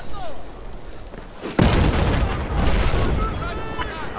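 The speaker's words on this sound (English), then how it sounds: "Oh, that's a tank." A tank firing in the video game Battlefield 4 gives a sudden loud boom partway through, followed by rumbling battle noise and scattered gunfire, with a voice talking over it.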